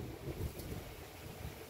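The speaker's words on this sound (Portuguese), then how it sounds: "O vento tá passando." Wind blows past outside a house, a steady, low, faint rushing with soft gusty buffeting against the microphone, no voice present.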